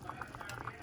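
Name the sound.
pompano sinigang soup boiling in a pot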